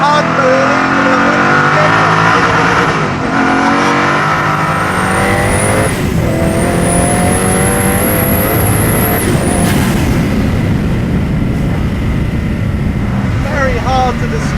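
A Koenigsegg Agera R engine roars loudly on a small track, revving hard through rising gear pulls with sharp shifts and a high whine, while someone talks over it.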